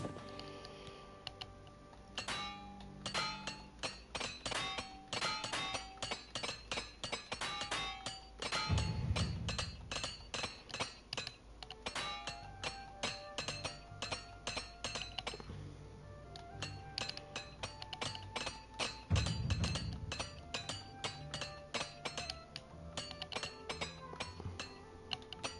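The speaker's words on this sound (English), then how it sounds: "I need to repair my armor." Repair hammer striking armor in the video game Oblivion, a long run of rapid metallic clinks and taps with two deeper thuds along the way, steady and close with no talk.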